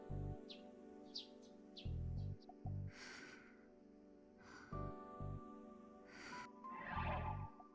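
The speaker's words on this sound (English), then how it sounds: "I met the morning with the sound of chirping sparrows and the quiet snoring of a girl." Sparrows chirping on a morning in the video game Chaos;Child, faint scattered bird calls over a droning musical background, with a soft snort-like breath in the mix.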